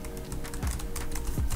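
Keys on a NexDock Touch laptop keyboard are tapped in a rapid, steady clatter for keyboard shortcuts, close and moderately loud, with no one speaking.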